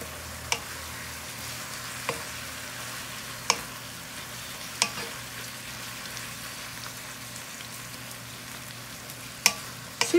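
Picadillo sizzles and fries steadily in a pan while being stirred, a continuous close hiss broken by occasional sharp clicks of the utensil against the pan, with no talking.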